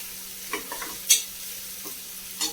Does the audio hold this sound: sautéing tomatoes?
yes